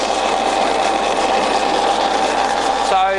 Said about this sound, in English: So they've got straight cut gears in there, they're pretty noisy.